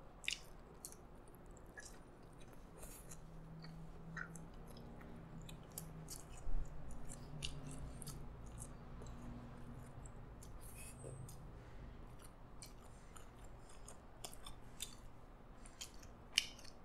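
Someone eats a McDonald's Malaysia Prosperity beef burger close to the microphone, with quiet wet chewing, soft squishes and crisp little bites repeating over a low steady background.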